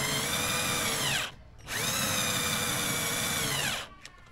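A power drill drives a screw into wood while a buffet cabinet is being built, whining loudly in two sustained bursts that slow in pitch as the screw seats, separated by a short pause.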